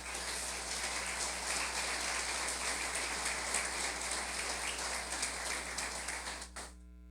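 A church congregation applauds in a dense, sustained wash of clapping hands that holds steady for several seconds before tapering off quickly near the end, with a low hum underneath.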